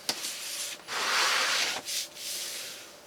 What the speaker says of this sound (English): Now I go over it with a J roller to press it down evenly